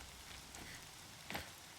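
Rain falls in the video game Horizon Zero Dawn as a faint, steady hiss and patter, with a brief slightly louder splash of drops partway through.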